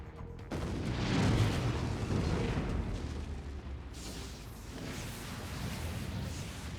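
A huge explosion erupts in the video game Infamous 2 right after a skipped cutscene, a dense, sustained rumbling blast that fills the whole stretch, with a fresh burst of crackling debris partway through.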